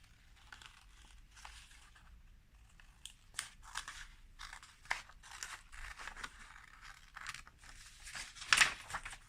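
Scissors snip repeatedly through a light material, producing short crisp cuts with faint crinkling in between, close and fairly quiet with no talking.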